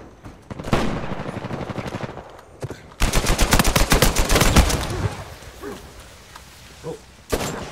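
Rapid automatic gunfire bursts in Uncharted 4 multiplayer, loud close strings of shots with heavier thumps, starting and stopping in several volleys with brief quieter gaps between.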